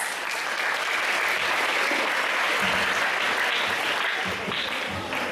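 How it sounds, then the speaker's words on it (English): Loud, sustained applause from a large audience, dense clapping filling the room without a break. "Let's welcome them with a huge round of applause."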